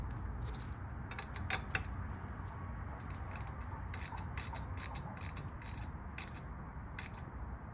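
A ratchet clicks in steady bursts while grease fittings are tightened on a Chevrolet Tahoe control arm, rapid close metallic ticks repeating over a low background hum, with no talking.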